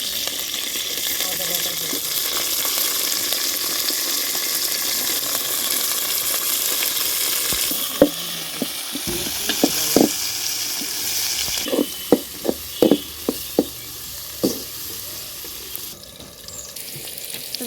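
Chopped onion frying in oil with green and dried chillies, a steady bright sizzle throughout with scattered sharper crackles and spatters toward the end.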